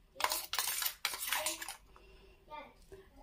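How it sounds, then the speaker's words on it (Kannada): A metal spoon clinks and scrapes against a container while adding spice powder to a pickle of amte buds, with a few sharp bursts of scraping followed by softer taps, close and fairly quiet. "ನನಗೆ ಸ್ಪೂನ್ ಮುಖಾಂತರ ಇದಕ್ಕೆ ಹಾಕ್ಕೊಳ್ತೀನಿ"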